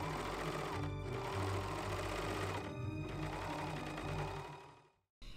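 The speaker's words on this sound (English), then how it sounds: "Then I went ahead and serged all of my edges." A serger overlock machine runs in rapid, steady stitching bursts finishing fabric edges, two brief pauses breaking the whirring chatter before it winds down and stops, with no voices.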